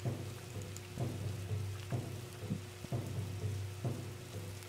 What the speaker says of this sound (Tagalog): Oh my gosh, umuulan!